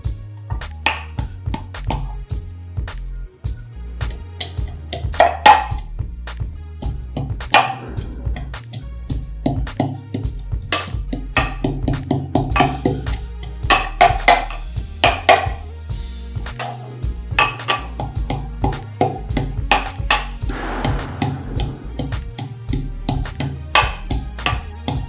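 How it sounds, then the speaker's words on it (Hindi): Ginger and garlic pounded in a mortar for a Diwali dinner, a long run of steady rhythmic knocks with metallic ringing, close and loud throughout. "अदरक लहसुन को अच्छे से कूट लेंगे।"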